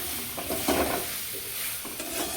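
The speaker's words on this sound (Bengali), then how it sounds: "এই যে এখানে আলুর দম বানানো চলছে" Aloo dum, a potato curry, cooking in a pan while it is stirred, giving a steady close sizzle with soft scraping of the spoon against the pan.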